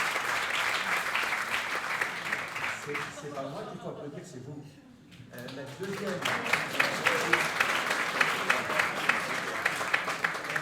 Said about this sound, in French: C'est pas moi qu'il faut applaudir, c'est vous.